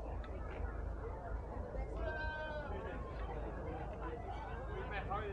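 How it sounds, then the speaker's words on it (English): Dairy goats bleat amid a busy farm background of murmuring voices and crowd noise at the Orange County Fair, the calls rising briefly above the steady din. "Some dairy goats."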